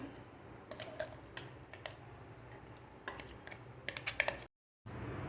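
Spoon clinks and scrapes against a steel grinder jar while coarsely ground chana dal paste is scooped out, a series of short close metallic taps over a quiet kitchen background, with a brief silent gap near the end.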